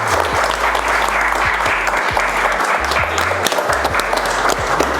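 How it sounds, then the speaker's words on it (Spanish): A crowd applauding at an art gallery event in Oaxaca, loud continuous clapping from many people close by, holding steady throughout with no talk over it. "Yo quisiera que les diéramos un fuerte aplauso"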